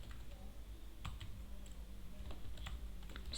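Python code being typed on a computer keyboard: scattered light key clicks in short runs, faint and close, over a low steady background hiss, with no one speaking.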